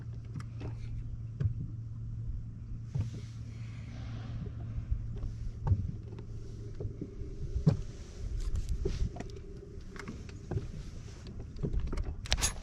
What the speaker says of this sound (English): You can hear that boat slap.